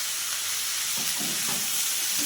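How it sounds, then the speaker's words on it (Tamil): Onions sauté in a pan for Bombay chutney with curry leaves, a loud continuous close sizzle and hiss, with faint stirring scrapes underneath. "வெங்காயம் நல்லா வதங்கட்டும்"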